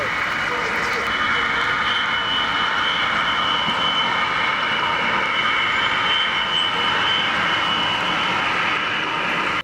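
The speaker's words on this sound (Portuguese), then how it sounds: "um avião de grande porte da Korean Air taxiando" A large Korean Air airliner taxis at an airport, giving a steady, loud engine whine and roar that holds without a break the whole time.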